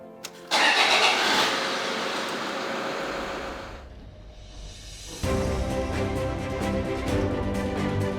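A new car, readied for a round-the-world drive, has its engine cranked to life close by. It settles into a steady run, dips briefly, then surges louder again as the car moves off.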